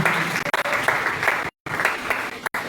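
A church congregation applauds and acclaims the Lord, dense, loud clapping filling the room with two brief drop-outs, continuing almost without pause.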